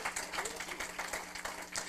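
Church congregation clapping hands in praise, a soft, fairly distant patter of scattered claps over a low steady hum, brief and not very loud.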